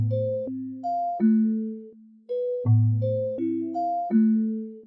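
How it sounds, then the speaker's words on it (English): Synthesized bell melody given a half-bar pulsing halftime effect, in a dark beat production: bright pitched bell notes in a repeating phrase that swells and decays in rhythmic pulses, clear and alone with no voices. "This is pretty much going to make the bell have a pulsing effect on the halftime."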